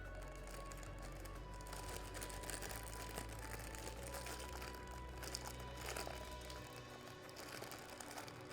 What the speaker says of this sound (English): That's what the crumpling is you're hearing real quick over the microphone.